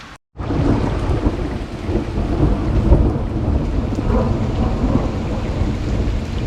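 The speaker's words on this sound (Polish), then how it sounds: "Tylko, że pada, pada coraz mocniej." Heavy rain pours down steadily during a thunderstorm in Austria, with a deep, continuous rumble of thunder underneath, loud and enveloping throughout.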